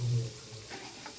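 Mustard seeds sizzle in hot oil alongside asafoetida and lentils during a South Indian tempering, a soft steady crackling hiss at low level close by.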